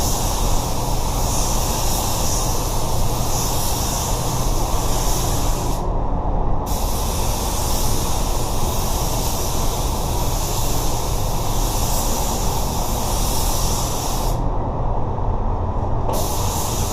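A paint spray gun applying an Axalta automotive blend coat gives a loud, continuous hiss, cut off by two short pauses between passes.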